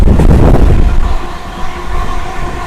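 A Renigunta to Nellore MEMU passenger train runs at speed, giving a loud, steady rumble of wheels and carriages with heavy low-end roar throughout and no voices.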